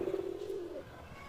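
Pigeons coo softly and close by in a low, rolling call while a white pigeon's wings are being handled and pulled, with a quiet background.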